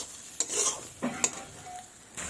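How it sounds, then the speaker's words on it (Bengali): Jujube chutney with sugar is stirred in a pan, with soft sizzling broken by a few distinct scrapes and light clinks of a spoon on the metal, close and alone. "তো আমি চিনি দিয়ে দিলাম। এবার ভালোভাবে নাড়াচাড়া করব।"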